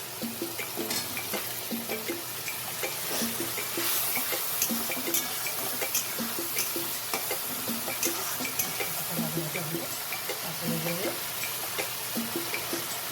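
Spice paste thinned with water sizzles and bubbles steadily in a pan while a utensil scrapes and stirs it in repeated strokes, the frying hiss continuous throughout.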